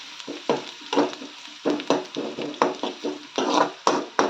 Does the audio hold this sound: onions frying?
yes